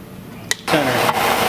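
An engine cranks briefly, then catches and starts, settling into a steady running roar.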